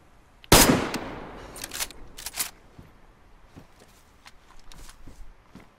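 Gunshots fired at a bear in the video game DayZ: one loud, sharp blast followed by a quick cluster of further shots, then fainter scattered cracks and shuffling noises trailing off.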